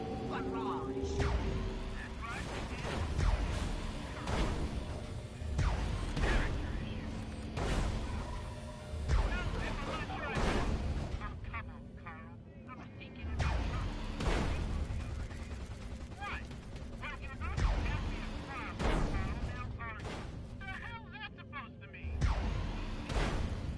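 Space battle in the game Destroy All Humans 2: Reprobbed, with repeated booming gunfire and artillery-like blasts, mechanical whooshes and layered explosions over a dense game soundtrack, with people talking throughout.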